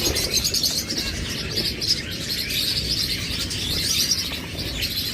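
Caged pet prince birds chirp steadily in a busy, continuous chorus, with no one speaking.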